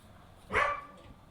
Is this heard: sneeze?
no